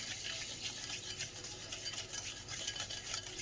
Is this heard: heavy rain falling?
no